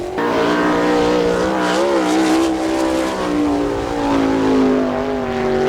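A sprint race car at Attica fires its engine on a lap, loud and near, with a rising and falling whine as it works around the track.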